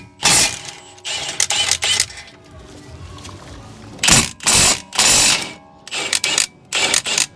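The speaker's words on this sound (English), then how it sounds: "now we can remove these two caliper bracket bolts" Ratchet or socket wrench work loosening the two 17mm caliper bracket bolts on a front brake of a Toyota Camry, heard as several short bursts of clicking and clattering close by, separated by quieter gaps, with no talk.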